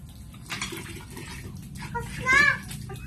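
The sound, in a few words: water gushing from a hand pump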